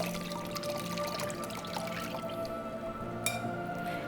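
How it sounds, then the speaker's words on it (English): Hibiscus tea strained through a sieve into a bowl, a close steady trickle and patter of liquid with dripping, continuous and soft over low background hum. "Now what I do is I sieve it into another bowl just to get rid of all the petals."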